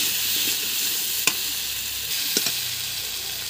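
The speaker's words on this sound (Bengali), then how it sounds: "সামান্য একটু জল দিয়ে ভালো করে কষিয়ে নেব" Masala with jackfruit and potato sautéing in oil in a pan, a steady broadband sizzle with a couple of sharp clicks of a spatula against the pan, no talking.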